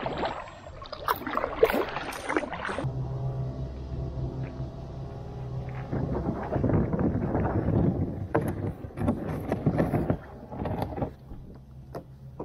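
Paddling a canoe or kayak on open water, soft rhythmic paddle strokes and splashes under gusts of wind noise, fairly close and moderately loud.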